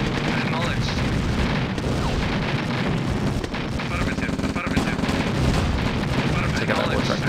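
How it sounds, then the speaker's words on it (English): Heavy weapons fire in the 1996 strategy game Command & Conquer: Red Alert, with continuous dense booms and explosive blasts layered over a loud battle din throughout. "something big is firing at me up there"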